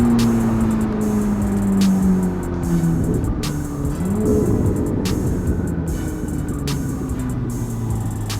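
1064 hp twin-turbo Corvette C8 ZR1 cruising in downtown Chicago, a loud, steady engine drone with shifting exhaust tones and a constant rushing roar, without talking.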